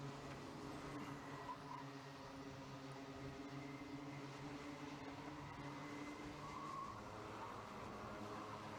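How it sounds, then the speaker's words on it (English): Kart tyres squeal on a race track at Ellough Park during a Micro Max final, blending with steady engine drone in a continuous, fairly distant wash of motor noise with no talk. "you can hear these tyres absolutely squealing as the track comes up to temperature"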